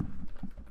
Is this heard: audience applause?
no